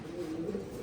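Pouter pigeon cooing in a steady, low, rolling murmur, close and moderately loud, with no talk over it.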